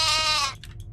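A sheep in an Exit 8-style video game gives a single loud bleat that breaks off into a few faint, fluttering trailing bleats.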